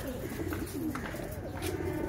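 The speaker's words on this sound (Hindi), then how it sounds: "ये टाइगर ब्रीड के कबूतर हमारे खंड के" White tiger-breed pigeons coo steadily at a home loft, a low continuous rolling coo close by with no talk over it.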